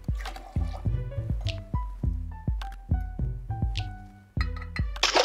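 Liquid poured in short bursts into a jigger while measuring a cocktail, a quick series of close, bright glugs and drips with rising pitch, plus a small splash at the end, no talking.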